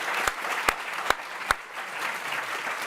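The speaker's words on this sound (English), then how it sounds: "Round of applause for our esteemed panel here." An audience applauds a panel at a California summit on generative AI with continuous clapping throughout, while a few louder, sharper claps stand out near the start.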